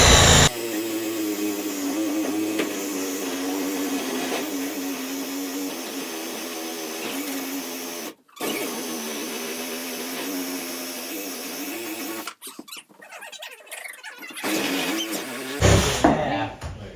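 A Sawzall reciprocating saw cuts wood on a remote Alaskan off-grid shed build, running as a loud steady buzzing drone with a brief stop near eight seconds, then sputtering and quitting toward the end.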